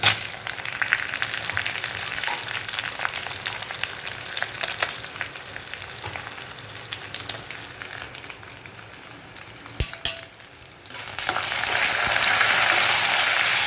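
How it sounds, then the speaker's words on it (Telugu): Coriander seeds and cumin seeds fry in a pan for a Telugu chutney, giving a steady, close crackling sizzle that dips briefly near the end before returning louder. "ధనియాలు తొందరగానే వేగిపోతాయి కాబట్టి జీలకర్ర కూడా వేసేస్తున్నానండి"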